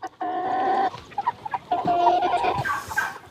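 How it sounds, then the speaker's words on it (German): Young roosters, almost four months old and hatched on the farm, clucking and calling in two close bursts of harmonic, slightly strained vocalizations separated by a short gap, with scattered farmyard noise beneath. "Die Hähne sind hier auf dem Hof geschlüpft und jetzt fast 4 Monate alt."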